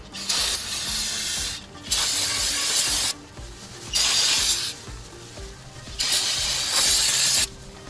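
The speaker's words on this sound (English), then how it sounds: "Brake part cleaner once more." Brake part cleaner sprayed onto the front brakes of a 1995 Daihatsu Hijet S110P; four long, loud, close hissing bursts of about a second each, separated by short pauses, with no talking.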